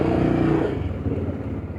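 A motorcycle passes close by, its engine loud at first then receding into a lower, uneven rumble as it moves away.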